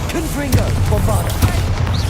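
Confringo and Bombarda spell explosions in Hogwarts Legacy, loud booming blasts and crackling bursts mixed with a voice calling out, dense and close.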